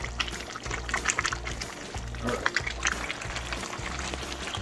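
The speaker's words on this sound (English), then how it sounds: "Then we'll add a little bit yogurt in that" Yogurt is poured into a chicken karahi, giving a soft, wet trickle and splash that continues for a few seconds over a low, steady background hum.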